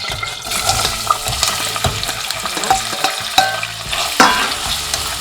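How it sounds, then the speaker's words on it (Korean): Radish and shiitake mushrooms stir-frying in olive oil for a rice dish, giving a loud, dense close sizzle broken by frequent scraping and knocking as the pieces are tossed in the pan. "먼저 무하고 표고를 볶아주세요."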